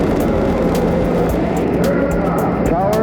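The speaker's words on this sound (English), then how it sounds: "All engine running. Liftoff. We have a liftoff." Apollo 11 rocket liftoff: a steady, loud, dense roar with heavy low rumble and broadband crackle that holds constant throughout.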